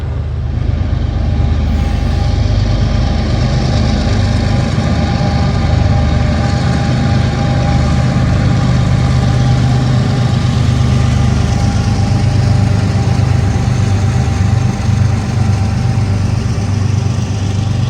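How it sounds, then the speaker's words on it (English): A Norfolk Southern locomotive, number 8114, rolls past on the Greenville District: a loud, steady low diesel engine rumble that holds unbroken throughout, with no voices. "NS locomotive number 8114 rolls by with the confidence usually only seen in movie stars."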